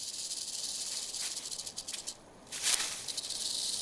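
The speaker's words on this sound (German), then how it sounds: "Ein tieferes Klappern deutet auf eine große, ausgewachsene Schlange hin" A large, fully grown rattlesnake shakes its tail in a steady dry buzzing rattle, continuous and fairly close, briefly dropping away before resuming more strongly.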